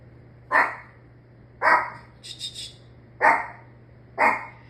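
Chihuahuas bark excitedly in sharp, loud yaps, four distinct barks spaced about a second apart with a quick trio of higher yips in between, close by over a low steady hum.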